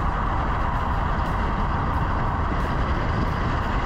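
Car engine drifting on a race track, a steady loud roar held on the throttle through an angle change, with a constant rumbling drone and no clear gear shifts or speech.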